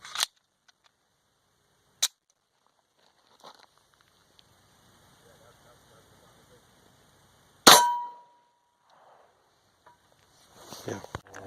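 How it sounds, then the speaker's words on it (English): A Sig Sauer P226 Legion SAO pistol has its magazine dropped and reloaded, several sharp metallic clacks and clicks spaced apart, with one louder slam and faint rustling in between. "drop the magazine. Reload the magazine."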